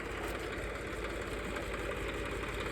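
A 35 HP 4x2 tractor engine runs steadily with a fixed duckfoot plough, a loud, even rumble with a dense low throb and no voices.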